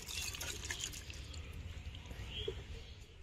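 Watermelon juice poured out of a hollowed-out watermelon, a faint continuous splashing trickle with soft dribbles throughout, quiet and close, no talking.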